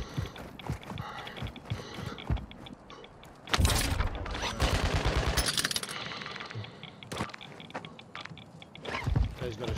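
An underbarrel launcher fires over and over in a video game, a dense run of punchy, booming shots packed together in the middle of the stretch, set among busier game noise before and after.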